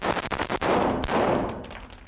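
Handgun shots in a speed-and-precision shooting drill ring out loud and close, several reports in quick succession with a long echoing decay between and after them, with no talk.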